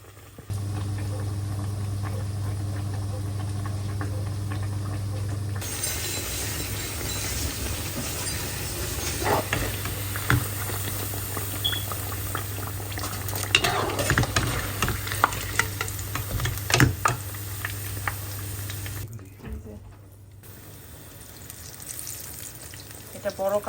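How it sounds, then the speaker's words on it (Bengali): Onions fry in a pan in a home kitchen, giving a steady, close sizzle with stirring scrapes and clatter. Near the end the sizzle cuts out briefly. "পেঁয়াজগুলো ভাজা শুরু করে দিলাম।"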